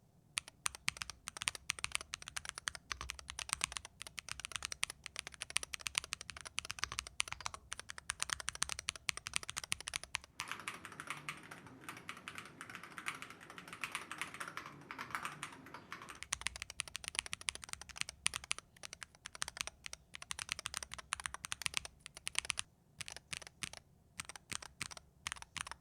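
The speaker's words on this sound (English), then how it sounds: "here's a quick sound test of the SK75 TMR with the default switches in them" Steady typing on a Womier SK75 TMR keyboard fitted with its default switches, a dense run of quick close keystrokes with a brief thinner, quieter stretch midway and no voices.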